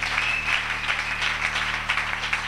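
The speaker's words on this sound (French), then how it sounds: "tu dois applaudir le Seigneur ce matin" A church congregation applauding steadily during a Thursday evening service, a dense, sustained patter of clapping hands that holds at an even level throughout.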